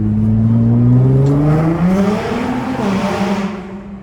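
A Nissan GT-R engine revs hard and close, its pitch climbing in a loud sustained roar, then easing and rising again before tapering off.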